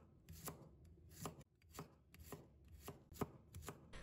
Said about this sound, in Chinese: 给它切成蒜片